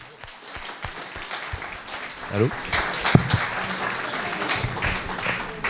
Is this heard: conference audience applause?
yes